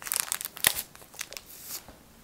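Plastic packet holding a doll from a Rainbow High, Bratz or Barbie toy parcel crinkles in hands, a few close, sharp rustling bursts that taper off into softer crackles.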